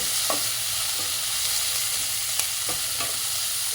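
Curry leaves crackle in hot oil with a loud, dense, continuous sizzle, close up, with a few faint stirring clicks scattered through and no voices.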